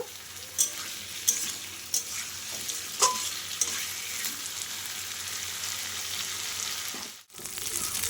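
A spice masala sautés in a pan for a fish curry with papaya and potato, a soft steady sizzle broken by several sharp scrapes and taps of a spoon stirring against the pan.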